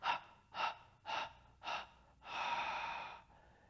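Rhythmic breathing during a Pilates exercise: four short, forceful breaths in even succession, then one longer drawn-out exhale, close and fairly soft with no speech.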